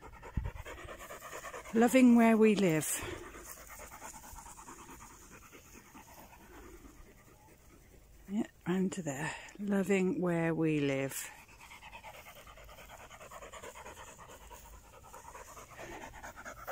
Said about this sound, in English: It's not me panting, it's the dog.